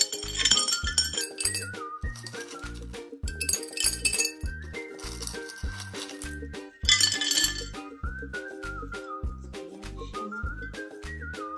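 Stones are dropped one by one into a glass vase, making a steady run of bright clinks and chinks, with background music playing throughout.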